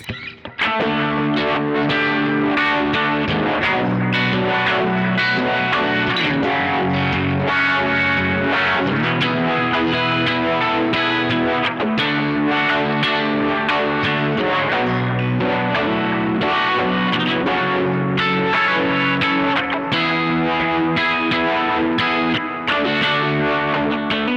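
An overdriven electric guitar through a Sonicake Matribox II amp simulator with the turbo engaged by expression pedal plays continuously, thick and distorted with a chorus-like shimmer, loud and steady throughout with no voices.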